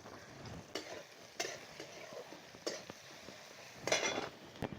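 Fish scales, seasoned with salt, turmeric and chilli powder, tossed and stirred in a hot frying pan, giving a soft continuous sizzle broken by intermittent scraping and clinks of a utensil against the pan.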